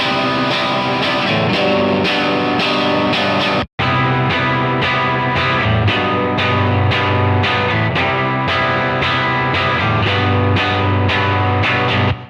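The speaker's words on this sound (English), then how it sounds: "you introduce contrast by using 2 different tones for each guitar track" Doubled electric guitar tracks recorded with two different tones, distorted and layered: loud, dense strummed chords in a steady rhythm, with a brief dropout partway through before the playing resumes and continues to the end.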